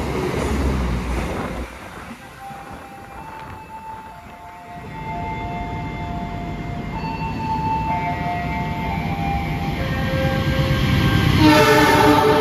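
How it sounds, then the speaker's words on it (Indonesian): The Argo Anjasmoro express train rushes past at speed with a steady rumble and rail noise that builds toward the end, with a brief horn-like tone in the middle. "Kayaknya baru aja melintas di sini tadi ngebut kereta api Argo Anjasmoro"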